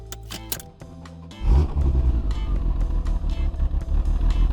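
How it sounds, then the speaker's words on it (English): A BMW car engine idling roughly, heard up close: a loud, uneven low rumble that starts after a second of brief clatter and keeps pulsing and wavering to the end. "The first problem with my car is the rough idle."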